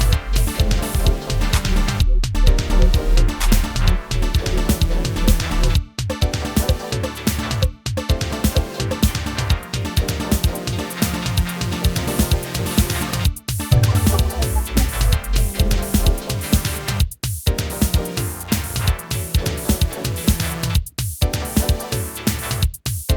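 Electronic music B section plays as a layered pad, a deep bass line and a punchy drum pattern, loud and continuous with brief drop-outs between phrases and no speech.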